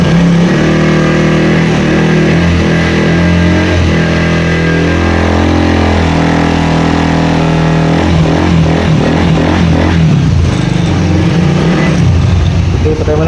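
A Suzuki Raider 150 motorcycle fitted with a fake regulator idles and is revved high, a loud close engine drone that rises and wavers with throttle blips toward the end.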